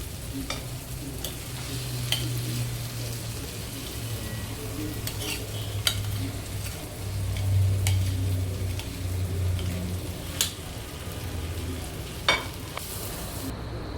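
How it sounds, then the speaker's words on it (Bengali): Blended, sticky taro roots stirred into a sizzling cooked spice paste in a pan, with a steady low sizzle and occasional sharp spoon knocks against the pan, close by. "এখন আমি ভালো করে নেড়ে মশলার সাথে এগুলোকে মিশিয়ে দিচ্ছি"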